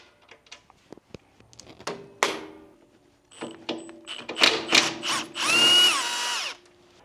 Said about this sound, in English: It's a little 3/8 impact by Milwaukee.